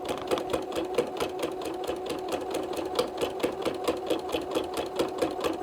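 Sewing machine stitching the facing onto a quilt, a steady fast mechanical whirr with regular needle clicks running continuously at close range, with no talk over it.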